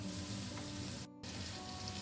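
Spices sizzle and fry in a pressure cooker pot for a tomato salan, a steady close hiss with a brief cut-out midway, no voices present.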